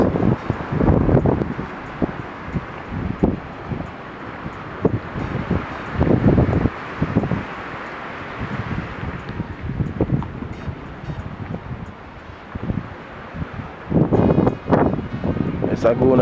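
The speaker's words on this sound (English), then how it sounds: "So windy, guys." Strong gusts on a beach by a small fishing village in Jamaica, with a rough sea, batter the microphone in loud, irregular bursts of rumble. Someone talks between the gusts.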